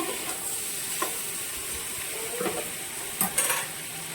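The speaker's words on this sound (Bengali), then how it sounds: "মশলাটা এখানে দেখুন আমি একটু লাল লাল করে ভেজে তুলব।" Spice masala frying in a pan while being stirred, a steady close sizzle with a few spoon scrapes and knocks against the pan, no voices.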